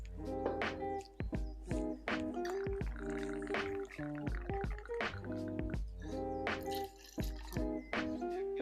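White rum poured for a piña colada, a close run of liquid drips, splashes and glugs with short pauses, alone without talk.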